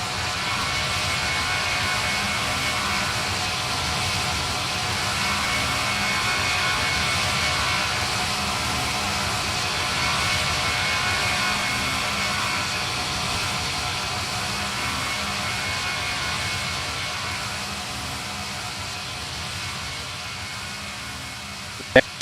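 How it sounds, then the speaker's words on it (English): A KC-10 tanker takes off from runway 22 in Roblox PTFS during an airbase airshow, a continuous broad engine roar holding steady for the whole stretch, with faint speech-like sound mixed in. "Very smooth takeoff there."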